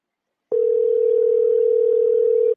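A steady, unbroken telephone dial tone starts abruptly and holds at an even level for about two seconds before cutting off, heard alone and clearly while a call is being placed.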